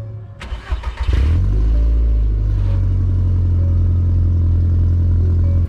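An Audi TT 225 quattro engine cranks briefly with a clattering start, catches and settles into a loud, steady idle heard up close after an intercooler install.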